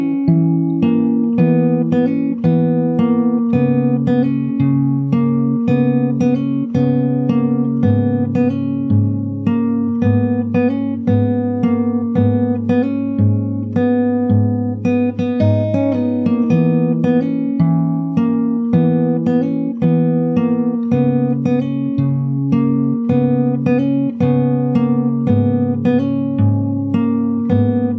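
Solo fingerstyle acoustic guitar plays the full verse of a song, a continuous flowing pattern of plucked bass notes and melody, steady and close throughout with no talking.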